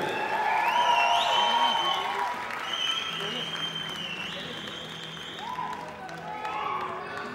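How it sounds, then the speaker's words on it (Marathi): An audience at a film event for Dharmaveer 2 applauds and whistles for Pravin Tarde, with sustained clapping and cheering mixed with a voice over a public address. "जोरदार टाळ्या शिट्ट्या झाल्या पाहिजे श्री प्रवीण तरडे।"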